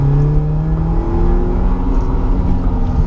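Race car engine on an autocross slalom course, loud and continuous up close, its pitch falling as the driver shifts from third down to second gear, then droning steadily with rough low rumble.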